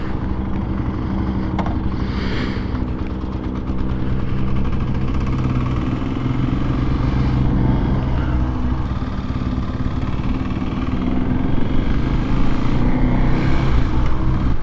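A Kawasaki KLX 300SM supermoto motorcycle running steadily on a test ride, its single-cylinder engine droning loud and constant with wind rush and small shifts in pitch throughout.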